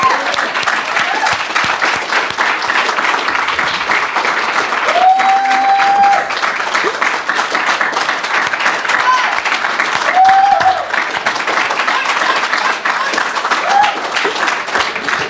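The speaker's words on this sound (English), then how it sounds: "Let's give him another round of applause." Sustained applause from a church service congregation, steady dense clapping throughout at a fairly loud level, with a few faint voices and whistles mixed in.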